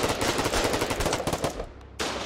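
Rapid automatic gunfire in a first-person shooter video game, aimed at an enemy foxhole: a loud, dense stream of shots that breaks off briefly near the end, then resumes.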